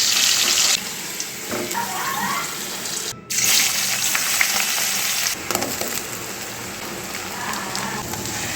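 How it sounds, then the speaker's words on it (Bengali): Mutton frying and sizzling in a pan for a thin curry, a steady close hiss, with water splashing in a sink now and then and a brief drop near the middle. "তো এদিকে মাংসটা কষাতে বসিয়ে দিয়েছি"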